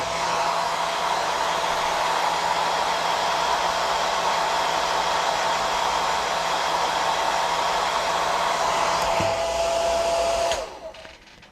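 A hair dryer blows steadily on fresh paint during stencil work, a loud, constant airy roar lasting about ten seconds before it switches off and falls silent.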